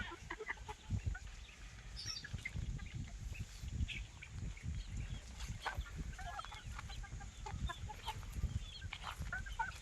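Gamecock stags on a farm make faint, scattered clucks and short calls against soft background noise, quiet and at some distance.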